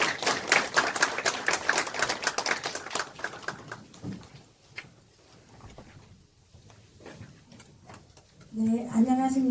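A meeting audience claps for about four seconds to welcome the chair of a Hwaseong citizens' regional meeting. The crisp, busy clapping fades into a quieter room where a voice begins speaking.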